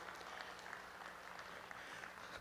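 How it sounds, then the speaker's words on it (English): An audience at a Brown Swiss cattle show in a Kentucky State Fair arena claps in a steady, faint wash of applause heard from a distance. "let's give them all just a really nice round of applause and show your appreciation for them"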